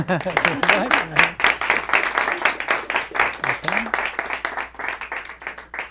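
Audience applause at a District 49 delegate debate, rapid clapping from the crowd mixed with voices talking and cheering throughout.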